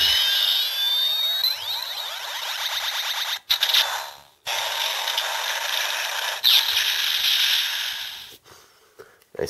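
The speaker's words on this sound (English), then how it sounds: "the elemental ones makes the same standby charging effect sound" A DX Double Driver toy emits a bright electronic standby charging effect, a continuous high whirring, sweeping tone with brief cutoffs, loud and close with no talking.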